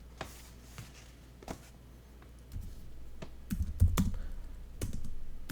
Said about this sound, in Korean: 타이핑 치면서 하려니까 힘들어서